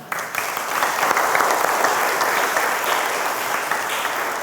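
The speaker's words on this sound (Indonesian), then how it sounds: "Kita beri aplaus, saudara." A church congregation at a Sunday service applauds members newly declared as followers of Christ, a loud, dense, sustained clapping that starts abruptly and continues evenly throughout.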